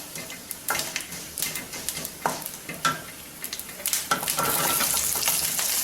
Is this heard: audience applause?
no